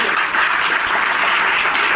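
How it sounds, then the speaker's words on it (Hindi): An audience applauding at a celebration event for achievers in Meerut, a dense, continuous burst of clapping from many hands filling the room. "एक बार जोरदार ताली"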